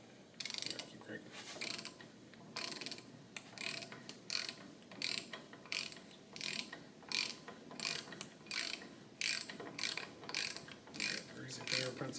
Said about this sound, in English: That's a 1/2 inch ratchet.